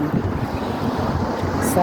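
Steady, cool wind buffeting the microphone outdoors near a fish market in Bicol, a constant rough rumble with no clear talk over it.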